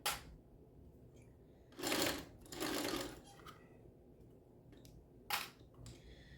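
Sewing machine stitching a backpack with an undersized needle, a few short close bursts of rapid mechanical whirring separated by quiet pauses.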